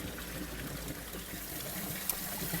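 Waste water drains from an Oase ScreenMatic 2 pond filter through a hose into a drain, a steady continuous trickling rush with little change, close by and without speech.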